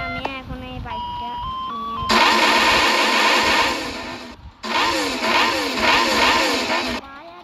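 A motorbike engine starts and revs loudly in two sustained bursts with a short break between them, while music plays underneath.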